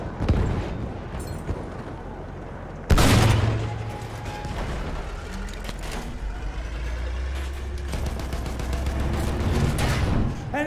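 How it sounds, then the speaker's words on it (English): Machine gun fire in the first-person shooter Battlefield 1, rapid bursts of shots amid a loud battlefield din with one heavy blast near the start and rumbling engine-like noise throughout. "Machine gun, hostile!"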